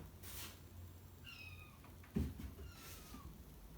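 Kittens meowing in a few short, bright calls spread across a few seconds, with a brief thump midway and low background rumble, no talking.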